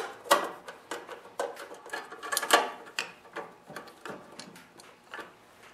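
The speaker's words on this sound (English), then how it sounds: "all I need is a nut driver to remove the recoil" Close, quiet ratcheting clicks of a nut driver loosening the bolts that hold the recoil starter on a Briggs & Stratton engine, in irregular short bursts.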